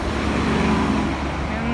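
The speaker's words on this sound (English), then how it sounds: "and there's a bus." A bus rolls past on a road in a steady, continuous wash of traffic rumble, with a voice faintly audible beneath the noise.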